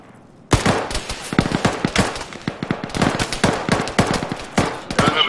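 Gunfire in Arma 3 during an ambush on Soviet forces in Afghanistan: after a brief quiet start, loud rapid rifle and automatic bursts crack close by, densely packed and irregular, with no talk.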